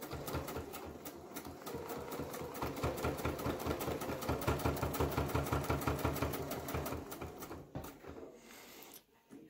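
A sewing machine stitches across pleated fabric for a face mask, a close, rhythmic needle clatter running steadily for about eight seconds before stopping.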